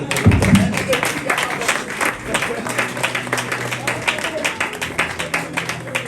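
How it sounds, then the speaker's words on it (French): A church congregation claps and applauds in rapid, steady rhythm at a worship service, with voices mixed in throughout and a louder burst near the start. "Acclamons très fort le Seigneur."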